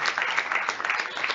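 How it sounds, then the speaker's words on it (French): An awards-ceremony audience applauds themselves, a dense brief burst of many hands clapping at once, steady and fairly loud throughout. "Et voilà, applaudissez-vous"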